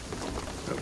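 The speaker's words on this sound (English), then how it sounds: "the rain is gonna flood it" Steady rain with a low rumble of thunder during a downpour in Shadow of the Tomb Raider, forming a continuous, even wash of sound that fills the whole brief moment.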